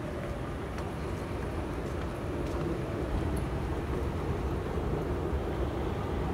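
Steady, loud low rumble of a metro train at an underground station, with the platform three floors below ground, continuous and droning with no voices.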